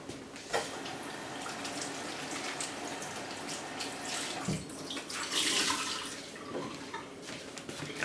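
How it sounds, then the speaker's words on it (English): Running water splashes steadily from a tap as a towel is wetted to rinse off natural bar soap, a continuous close hiss with a brief change in the flow partway through. "I'm going to wet the towel again so that I can rinse the soap."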